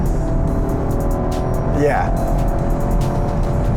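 A BMW X7 M60i mild-hybrid SUV is driven fast through corners on a national speed limit road, with steady loud engine and road noise and a brief tyre-like sweep, while someone talks over it.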